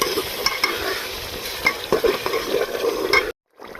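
Achari gosht masala with yogurt is stirred and fried in a pan, giving a dense sizzle with scraping spoon strokes that stops abruptly near the end.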